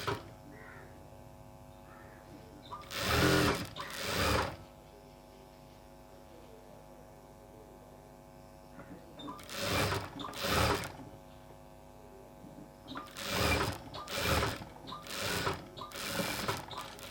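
Sewing machine stitching the side seam of a dhoti salwar leg, running in several short bursts of about a second each, close and fairly loud over a steady background hum.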